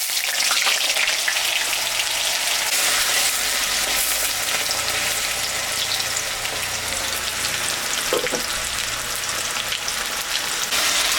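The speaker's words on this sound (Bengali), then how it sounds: "একটা আলু ছোট করে কেটে নিছি, এটা এখন একটু ভাজা ভাজা করে নেব।" Small-cut potato pieces fry in a pan with a steady, loud, continuous sizzle that lasts throughout, with no talking.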